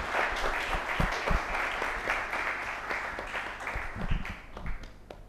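At an academic conference session, an audience applauds with a dense burst of clapping that holds steady for several seconds, then thins and fades.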